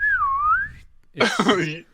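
A person whistles a slide-whistle imitation, a smooth tone that dips and rises in pitch for nearly a second, followed by a short burst of a voice.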